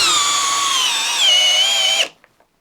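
A Flex compact drill driving a 6-inch timber lock screw into wood, a loud whining motor pitch that strains and dips as it bites, then cuts off sharply after two seconds with a couple of small clicks.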